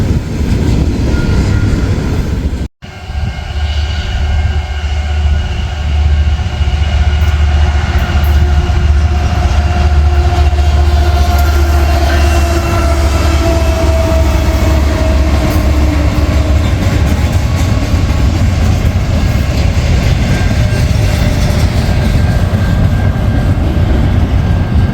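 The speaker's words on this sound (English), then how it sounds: "Like an eastbound Z train." An eastbound freight Z train rolls past close by, a loud, steady rumble with continuous wheel and car noise sustained throughout, with no talking.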